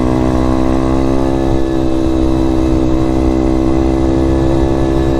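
An M2R RF160 road-legal pit bike engine while riding at cruising speed, a steady buzzing drone with constant rev and no talking over it.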